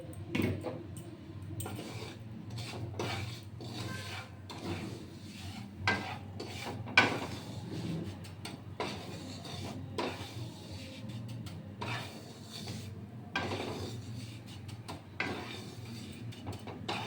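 Semolina being dry-roasted and stirred in a pan for a carrot chocolate chip sandesh, a steady scraping and rubbing of spoon against metal repeating in short strokes, close and fairly quiet with no talking.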